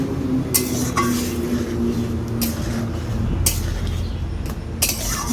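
A spoon stirs masoor lentil dal with greens in a cooking pot, giving a handful of sharp metallic clinks against the rim over a low simmering background.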